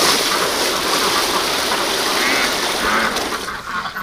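A crowd of ducks, including ducklings and Muscovies, at a duck hospital, loud dense overlapping quacking close by that thins slightly toward the end.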